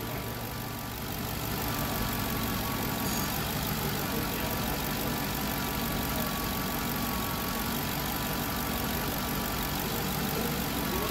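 Ford Crown Victoria engine running steadily at idle, a continuous close rumble with a faint knocking texture underneath and no talking.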